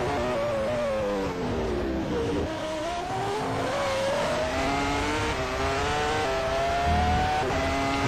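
Onboard a race car lapping the Sakhir circuit in Bahrain, a loud continuous engine roar with pitch sweeping up through the gears and dropping on downshifts, close and steady throughout with no voices.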